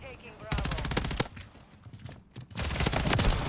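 Light machine gun fire in Modern Warfare 3, loud rapid bursts of automatic shots broken by a short pause, then a dense sustained burst.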